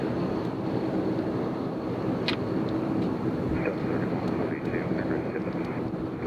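A WestJet airliner arrives at Nashville International Airport, its engine roar low and steady under heavy wind buffeting the microphone. A brief faint tone cuts through the continuous rumble.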